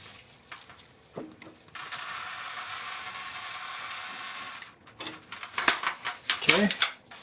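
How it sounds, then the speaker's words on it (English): A long-handled ratchet loosens a rear brake caliper bolt on a 1999 Acura RL, giving quick clicking pawl runs around a steadier mechanical whir, then sharp metallic clacks near the end. "I'm using a long handle ratchet, by the way. Crack that loose. And we'll just spin this out."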